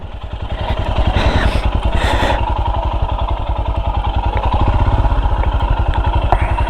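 A motorcycle engine runs steadily close by on a ride out, a loud, even low pulsing throb that swells slightly as it revs, with light clatter over the top.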